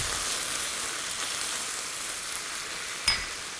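Sliced onion and dried cranberries with balsamic vinegar and brown sugar sizzle steadily in olive oil in a fry pan, a constant close crackle with one brief clink near the end.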